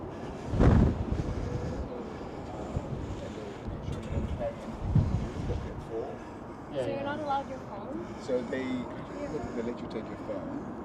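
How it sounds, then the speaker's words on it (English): Strong wind buffets the microphone atop a pylon of the Sydney Harbour Bridge, a loud gusty roar with low rumbling bursts throughout, and people talking over it. "So windy up here."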